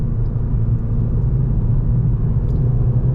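Volkswagen Scirocco R engine on a test drive, heard from inside as a steady, loud low rumble that holds even throughout, with no speech over it.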